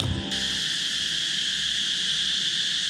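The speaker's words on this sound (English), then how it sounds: "All you hear is the cicadas." A loud, steady buzzing drone of cicadas over a river in Cambodia fills the air continuously, close and unbroken, with no other sounds.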